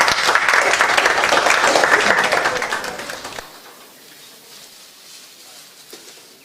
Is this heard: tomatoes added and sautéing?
no